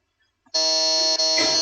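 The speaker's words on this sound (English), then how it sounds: "so we have Ashwin on the buzzer" A quiz-show buzzer at a business quiz final sounds once, a loud sustained electronic buzz lasting just over a second after a brief quiet moment, with no talking.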